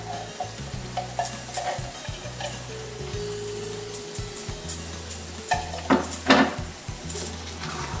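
Cooked chicken with added ghee is stirred in a pan for a Thalassery-style biryani, with a soft continuous sizzle under repeated scraping and clinking of a utensil against the pan, growing louder toward the end, with no talking.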